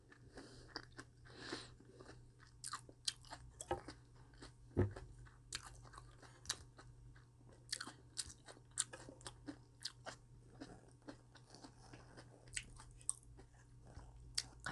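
Cabbage and perilla leaf wraps eaten together in a vegetable mukbang, giving close, loud crunchy bites and steady wet chewing that repeat in an irregular rhythm with no talk.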